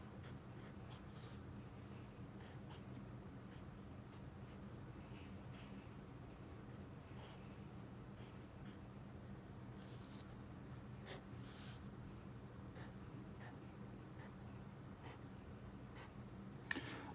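Pen drawing circles for a math diagram on paper, soft repeated scratchy strokes in irregular bursts, close and quiet over faint low background noise.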